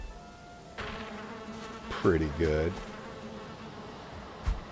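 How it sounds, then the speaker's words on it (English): Insect buzzing from bees in the video game Valheim, a steady drone under the scene with a brief louder swell, alongside a short burst of speech. "So many bees, y'all."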